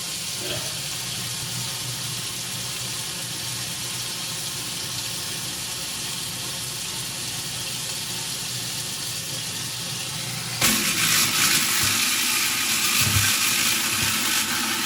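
Water runs steadily into a kitchen sink, then an InSinkErator Evolution Compact garbage disposal starts grinding spaghetti. It adds a louder, harsher whir over the running water for the last few seconds, close up with no talking.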